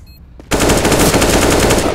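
Rapid automatic gunfire from a first-person shooter video game bursts in after a brief quiet moment, a loud, dense, continuous stream of shots running to the end.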